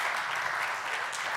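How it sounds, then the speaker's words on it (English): An audience applauds, a steady dense clapping that holds evenly throughout, moderately loud and heard alone. "Round of applause."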